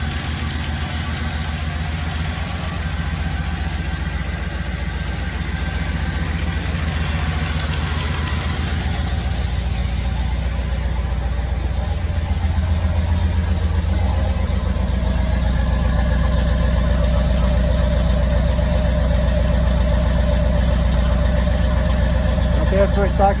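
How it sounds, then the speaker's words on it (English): A 1995 Pontiac Trans Am idles steadily at close range, its engine rumbling with a small exhaust leak that shows when cold. Someone talks over the idle throughout. "So I got a little exhaust leak when it's cold, but not that bad."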